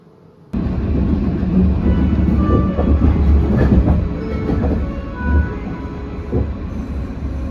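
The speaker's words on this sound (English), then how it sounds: "let's hop on the train again and head to our next stop" Steady low rumble and rattle of a Bergen Bybanen light rail train on Line 1 in motion, with faint rhythmic wheel clatter and occasional squeaks, loud and continuous throughout.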